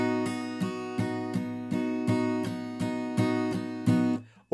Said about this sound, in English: we're going to take out the mutes and just play straight down strums